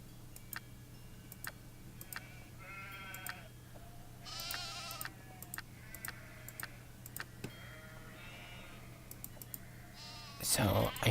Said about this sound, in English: So, I hear the sheep.